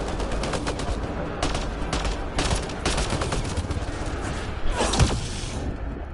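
Gunfire in Mass Effect Andromeda: loud, overlapping bursts of rapid automatic fire in a firefight, continuous throughout with a few heavier thumping impacts.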